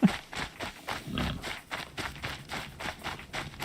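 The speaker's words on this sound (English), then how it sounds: "Probably a horse based on the sounds." The Strider, a robotic horse machine in Horizon Zero Dawn, trots along in a steady rhythmic series of hoof-like clops and mechanical footfalls, moderately close and fairly quiet.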